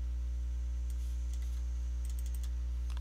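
A few light keystrokes on a computer keyboard tap out in small, quick clusters, faint against a steady low electrical hum.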